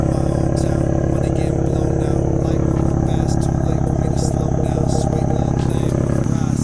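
BMW F80 M3 with single midpipe and catless downpipes idling close up, a dense, steady, rumbling engine and exhaust drone with a rough clattering texture throughout and no break.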